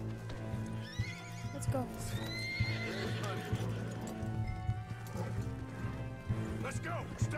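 In Red Dead Redemption 2, a horse whinnies a few times while hooves clip-clop beneath low droning game ambience, with someone speaking briefly over the scene.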